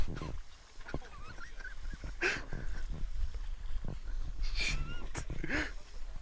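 Duck hooked on a fishing line during bass fishing, letting out sharp nasal quacks and honks among splashing and excited talk nearby.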